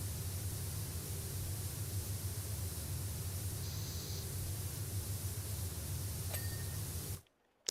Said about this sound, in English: I had to spray right up in the crack of the gutter.